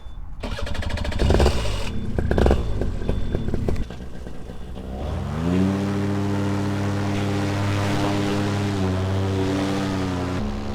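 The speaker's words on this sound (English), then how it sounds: "So I'm going to do another 2 half-hour flights now to break in the new engine." A new paramotor engine runs during a break-in flight in strong wind. Gusty buffeting and rough clatter give way to a loud, steady propeller drone with sustained harmonic whine, close and continuous.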